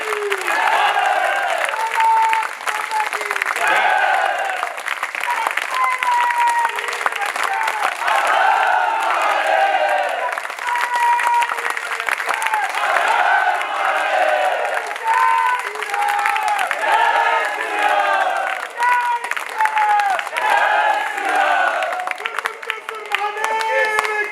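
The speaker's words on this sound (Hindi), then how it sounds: "ये 1 मिनट तक आपकी बजती हुई तालियां आदेशित करे" An audience at a poetry recitation event claps and cheers loudly and continuously, a dense sustained ovation with shouts and whoops layered over the clapping throughout.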